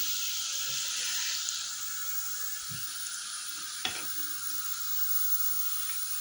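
Italian dessert dough frying slowly in hot oil, a steady close sizzle holding for the whole stretch with a faint clink near the middle and no talking.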